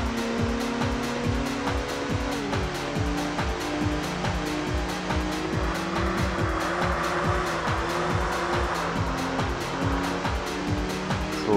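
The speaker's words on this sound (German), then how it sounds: "Sauber durch die Kurve geheizt." Race car in the video game Group S Challenge pushed hard through a curve on the Shibuya circuit, a loud, steady engine drone with rising and falling revs and rapid gear-like pulses, tires hissing underneath, with no speech.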